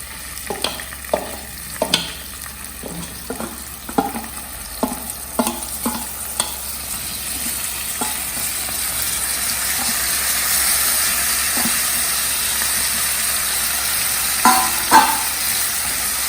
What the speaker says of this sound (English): Once it starts crackling, then you put in your dal.